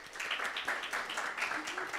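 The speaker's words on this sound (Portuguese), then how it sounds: "Salva de palmas para ele." Faint, scattered clapping from a small audience of students during an ECG lecture for anesthesiologists, a few hands applauding briefly and unevenly at a distance.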